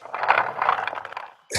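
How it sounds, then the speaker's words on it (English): A low, rumbling roll with scraping texture as a chair drags across a hard floor for over a second, deep and slowed-down, then stops before a short burst of noise. "It's the sound of a chair rolling across the floor, but I pitched it down a lot."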